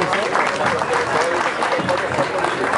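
A crowd applauds at a tribute ceremony during a marching band parade in Caxias, Maranhão, a dense, sustained clapping that fills the space evenly at close range, with a voice talking faintly underneath.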